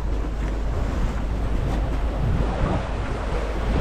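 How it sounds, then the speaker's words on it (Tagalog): Big ocean waves rolling and breaking around a fishing boat out at sea, a steady broadband roar of surf mixed with wind buffeting the microphone, continuous and loud with no voices. "Laki ng gulong ng alon"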